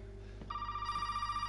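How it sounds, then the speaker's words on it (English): A telephone in the video game Resident Evil 7 starts ringing with a steady, trilling electronic bell over a low background hum, loud and close. "I'm not answering the phone"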